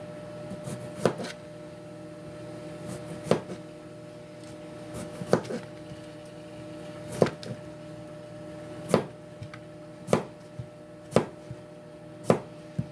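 A kitchen knife cuts through zucchini on a cutting board, giving about a dozen sharp, distinct chops at an uneven, unhurried pace, close and fairly quiet over a faint steady hum.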